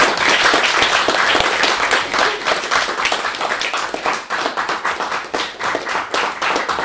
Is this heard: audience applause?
yes